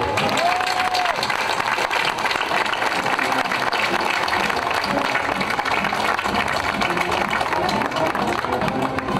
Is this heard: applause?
yes